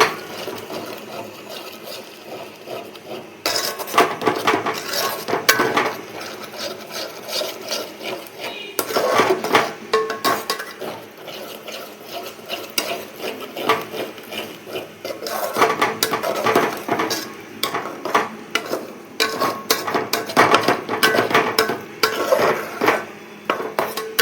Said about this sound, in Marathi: मटण मसाला पॅकेट पूर्ण टाकणार. आणि सगळं चांगलं असं मिक्स करून